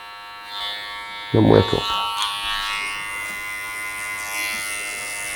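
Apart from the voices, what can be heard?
electric hair clippers cutting a low taper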